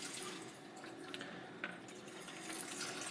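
Thinner liquid trickles and splashes into a canister in a steady, quiet stream, soft and close, with a few small splashes standing out.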